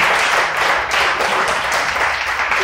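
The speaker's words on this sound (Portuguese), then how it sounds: "Você pode aplaudir a Deus por isso?" A church congregation applauds during a sermon, a dense, steady wash of many hands clapping at once, loud and close, holding evenly from start to finish with no speech over it.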